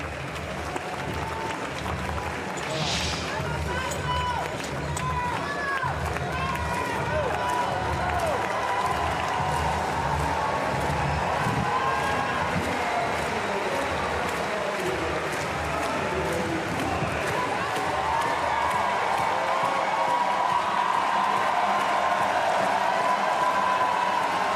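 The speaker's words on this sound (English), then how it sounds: "Fabio Torres milking the applause. He wants it louder" A sustained roar of applause and clapping from the crowd at Porte de la Chapelle Arena in Paris for a para powerlifter at the Paralympic finals, steady and full for the whole stretch, swelling slightly near the end.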